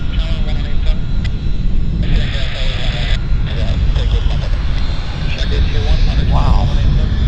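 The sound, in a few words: Falcon 50 EX business jet at Vancouver airport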